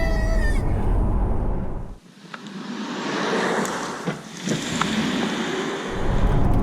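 A Tesla Model 3 Performance electric car launching from a standstill, with a loud, steady rush of wind and road roar that briefly dips partway through and then builds again, with no engine note.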